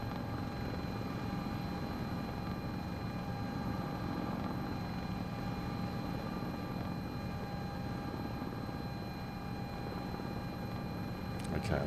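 Rotor and turbine drone of an S-76 helicopter in flight within the MSFS 2024 flight simulator, a steady, loud, continuous whir with a constant pitch throughout and no voices.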